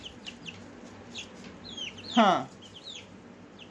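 Backyard chickens cluck and chirp in short scattered bursts around a small gathering of big hens near brooding chicks under a heat lamp, with a brief human exclamation mid-clip.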